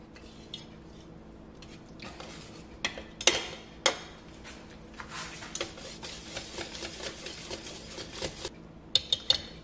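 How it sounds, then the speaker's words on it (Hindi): A whisk beats malpua batter in a metal bowl to work out lumps, giving quick, irregular clinking and scraping strokes, a few louder taps, close and without talk. "अब मैं इसे विस्कर की हेल्प से मिक्स करूंगी जिससे इसके सारे लंप्स निकल जाएं"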